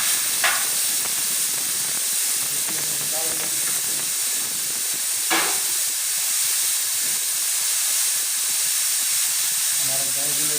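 A pressure cooker vents steam while goat karahi is cooking, a loud, continuous broadband hiss running throughout, with brief bursts of clatter and voice-like sounds mixed in.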